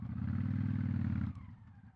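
A 2002 Honda VT750 Ace motorcycle rumbles at low speed with a steady, deep engine drone that suddenly drops to a softer, uneven putter partway through, with no talking over it.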